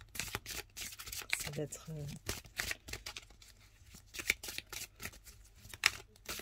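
Oracle cards from an animal-consciousness deck being shuffled by hand, a run of quick riffling, slipping card bursts at close range, with a voice speaking briefly over them.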